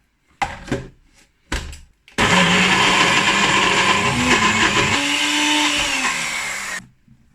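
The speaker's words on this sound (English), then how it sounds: "Now I'm gonna put my NutriBullet lid on and I'm gonna blend this before adding our Okara." A NutriBullet blender whirs steadily for several seconds blending a thick cashew paste for vegan cheese, after a few short bumps and clicks as the lid goes on; loud and close, with no talk.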